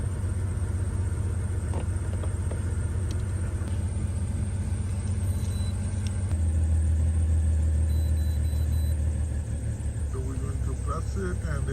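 A BMW with a cylinder 2 misfire and a failing coil pack runs with a steady, loud rumble close by, its engine note deepening partway through, while a voice talks over it.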